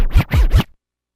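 Vinyl record dragged backward on a DJ turntable, giving three quick scratchy rubbing swooshes in a fast, even rhythm, loud and close, then abrupt silence.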